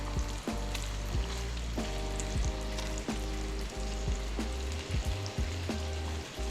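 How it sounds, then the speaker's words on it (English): Delicate snapper fillets fry in butter in a pan with a loud, constant sizzle and crackle, with a few soft clinks or scrapes of a utensil recurring every second or so. "the snapper is so delicate that they've been in this pan for less than a minute"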